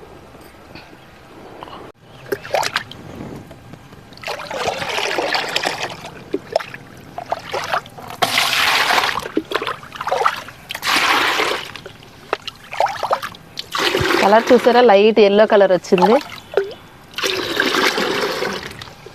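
Homemade liquid fertilizer mixed with glucose or ORS water is poured onto potted plants in several splashing, trickling bursts. A person talks between the pours.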